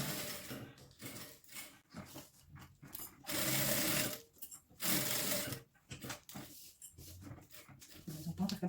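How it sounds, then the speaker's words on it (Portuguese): Sewing machine stitching along the sides and bottom of a wallet, rapid mechanical bursts starting and stopping, with a dog whimpering nearby and a voice speaking in the gaps. "a gente vem costurando ele nas laterais e na parte de baixo"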